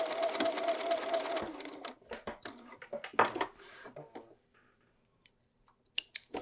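Sewing machine stitching the side seams of a fabric field bag, a short burst of rapid running stitches followed by scattered clicks and handling taps, then near silence and a few sharp knocks.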